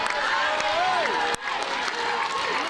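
Indoor crowd at a bowls match applauds and cheers, a broad wash of clapping and raised voices under commentators talking, with one brief sharp dropout midway.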